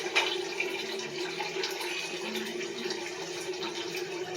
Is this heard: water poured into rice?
yes